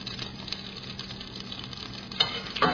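Cumin and fenugreek seeds, added after mustard seeds, splutter and crackle in hot oil for a tempering, a steady close sizzle with a few sharper pops near the end.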